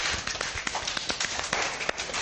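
A group clapping hands rapidly in a fast, irregular patter of sharp taps, moderately loud and continuing throughout, with no one speaking.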